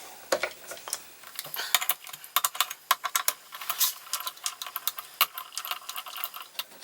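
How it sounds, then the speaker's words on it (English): Metal wrench working the cover bolts on a Makita electric planer, giving a rapid run of sharp ticking clicks and small metallic rattles, close and fairly quiet, with no one talking. "You need to undo these 3 bolts."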